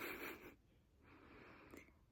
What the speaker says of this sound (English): let's just sniff it again